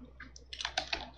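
Quick bursts of key presses on a computer keyboard while JavaScript code is typed, a close, irregular run of light clicks growing denser toward the end.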